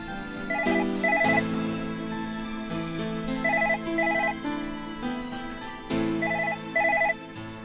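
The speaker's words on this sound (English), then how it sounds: "Can't you hear the phone ringing?" A telephone rings with a repeated electronic ringtone melody in bursts of paired chimes, loud and close over a steady musical background, with no talking.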